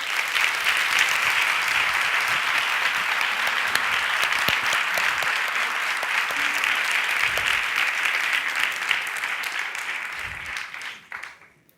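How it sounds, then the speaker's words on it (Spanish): An audience at a feminist talk gives the speakers a loud, sustained round of applause, dense clapping that holds steady for about ten seconds and then fades quickly to quiet. "Nada, que o disfrutedes e un gran aplauso para elas"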